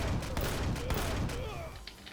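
Turret gunfire in the space survival game Empyrion Galactic Survival: rapid bursts of shots and impacts crackling over a dense rumbling background, with a voice talking faintly underneath.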